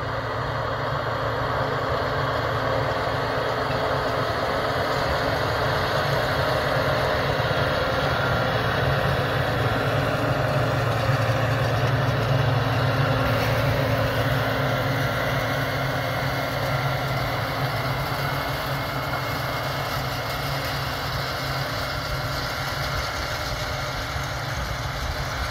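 A Case IH tractor pulling a 3950 field disc idles steadily outdoors. The engine gives a constant low rumble with a mid-range hum that holds unchanged for about twenty-five seconds, with no talk.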